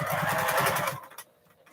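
A sewing machine stitches a quilt top in a quick, even, rattling run. The motor sounds close and fairly loud, then winds down and stops after about a second, leaving a faint clatter.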